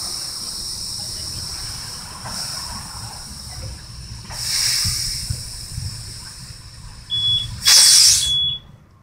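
A portable tire inflator pumps air into a car tire, a steady hiss running underneath with a brief louder burst partway through, then sharp electronic beeps near the end as it reaches pressure.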